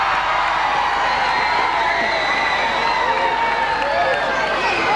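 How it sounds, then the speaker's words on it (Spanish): A studio audience in a TV studio cheers and applauds for a singer in a loud, continuous wash of crowd noise with whoops and shouting. "Vamos a recibir en el estudio un fuerte aplauso para"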